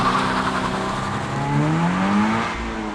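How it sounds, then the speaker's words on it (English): A 2024 Subaru BRZ tS engine revs up loudly and steadily at a drag-race launch, its harmonic pitch climbing and holding close by, with no talking. "To get the BRZ launching, it's best to kind of rev it up a bit."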